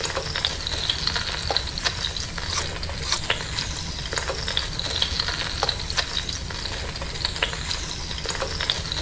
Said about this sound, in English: Add minced and crushed ginger garlic.